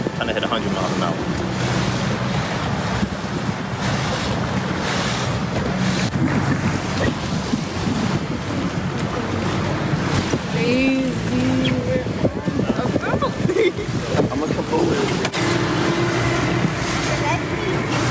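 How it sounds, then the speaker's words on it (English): A boat moving across open water in Venice, Italy, with steady wind buffeting the microphone and water rushing beneath; faint voices and brief whistle-like tones come through partway. "This is a nice little boat ride."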